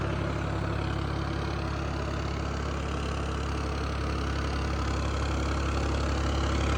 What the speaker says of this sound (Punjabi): ਟਰੈਕਟਰ ਦੀ ਆਵਾਜ਼ ਤੇ ਲੋਡ ਵੇਖ ਲਓ